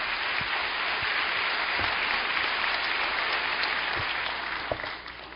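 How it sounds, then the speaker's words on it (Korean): A church congregation claps warmly for the pastor at a special early-morning prayer service, a steady, even wash of applause throughout with a few sharper individual claps near the end. "우리 따뜻한 격려와 사랑의 박수로 축복하겠습니다."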